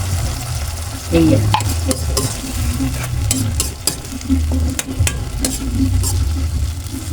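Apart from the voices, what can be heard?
sardines added to a pan and sautéed with stirring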